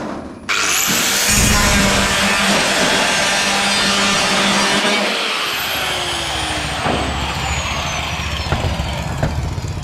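A power saw cuts ceramic roof tiles during a rooftop install, a loud continuous harsh whine with grinding that lasts several seconds before tapering into scattered scrapes and knocks, no speech.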